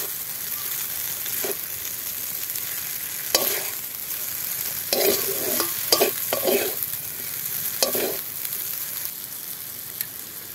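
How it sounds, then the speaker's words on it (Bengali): Egg chowmein stir-fried in a pan, with a steady close sizzle broken by repeated scraping and tossing strokes in short bursts, the stirring clusters growing busier toward the middle. "ভালো করে নেড়ে ভেজে নেব।"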